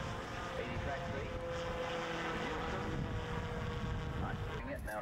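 A Drifter SB strut-braced experimental ultralight aircraft flies nearby with a steady droning propeller engine that wavers slightly in pitch and stays loud and continuous, with someone talking over it.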